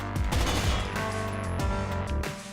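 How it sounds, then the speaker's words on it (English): Gunfire in Rainbow Six's Terrorist Hunt mode, a series of close, loud sharp shots with ringing reverberation spread over a couple of seconds. "I'll fire off a shot just in case."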